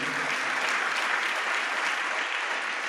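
A church congregation claps loudly and continuously at a Sunday worship service, a dense and even wash of hands that carries on without any voices over it.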